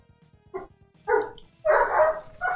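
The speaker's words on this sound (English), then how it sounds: "The dogs are just wanting to say hi." Dogs bark in bursts, one short bark followed by longer, louder ones, close and clear over a quiet background of faint clicking.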